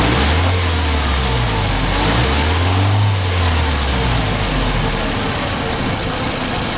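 A car engine revs up and down in two rising-and-falling swells, loud and close under steady mechanical noise, with no voices.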